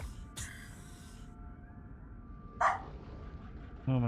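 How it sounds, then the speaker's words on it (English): A neighbour's dog barks a few times from a distance, with sharp, separate barks spaced several seconds apart over a quiet, steady background hum. "The neighbor dog is barking."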